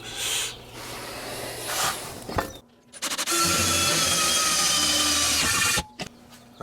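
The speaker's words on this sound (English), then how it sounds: "Time to drill some holes." A power drill whirs in steady bursts with some scraping while drilling mounting holes on a boat's bow for a Minn Kota trolling motor, then runs loud and continuous for about three seconds before stopping abruptly.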